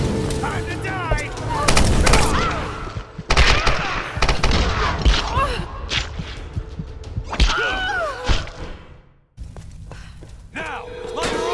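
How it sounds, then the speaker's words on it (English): Machine gun fire in the video game Tomb Raider Definitive Edition, loud rapid bursts and heavy thuds in a chaotic firefight, with shouting voices over the shooting and a brief lull before the shots resume. "She has a machine gun!"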